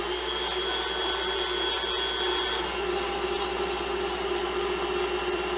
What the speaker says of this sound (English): I'm going to turn it up a bit just so that the stuff that's still in the mixer head will come out.